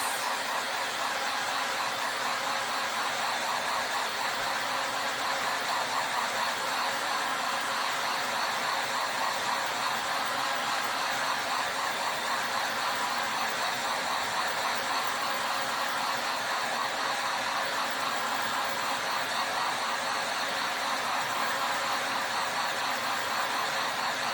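A hair dryer blows steadily and close for the whole stretch, drying paint on a door hanger, a constant whooshing hum with no pauses or talk.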